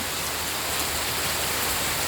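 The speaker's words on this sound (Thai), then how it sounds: "เดี๋ยวจะซูมให้ดูนะ ว่าเม็ดฝนแรงไม่แรงนะคะ" Heavy midday rain pours steadily around a house, a dense, loud, unbroken hiss with no pauses and no voices.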